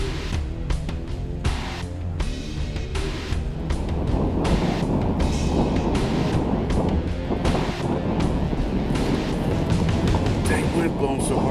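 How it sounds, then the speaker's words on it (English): Strong wind blows hard outdoors during a conservation hunting outing, a steady buffeting roar across the microphone with gusty surges throughout, while people occasionally talk beneath it. "Wind blowing so hard, I just didn't feel good with it."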